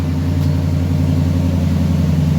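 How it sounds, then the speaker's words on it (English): A 2013 Ford F-150 pickup truck's exhaust idles with a deep, steady rumble and a low, throbbing drone close by, with no voices. "I thought I'd let you guys listen to the exhaust of my 2013 F-150."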